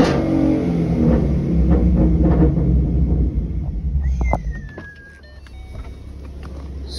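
A 2014 Mustang 3.7 V6 fitted with BBK shorty headers and Roush axleback exhausts, revved hard to about 6,000 rpm as a loud, steady roar for several seconds, then dropping off with a whining, descending tone as the revs fall.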